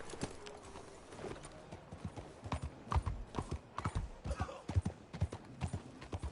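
Horse hooves clip-clop in an irregular trotting rhythm in the video game Red Dead Redemption 2, fairly quiet, with a soft background hum.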